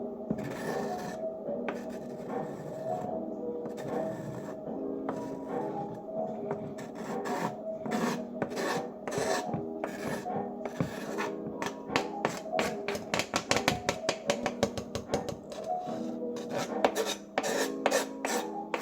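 Potatoes scraped by hand for potato salad, with rapid dry rasping strokes that grow quicker and denser toward the end, close and moderately loud with no voices.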